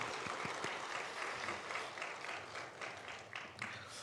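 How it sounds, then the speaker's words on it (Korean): A church congregation applauds the David choir at a year-end service, dense steady clapping filling the room for the whole stretch, moderately loud and even, with a few sharper individual claps standing out near the start. "우리 다윗 찬양대 축복하며 박수하겠습니다"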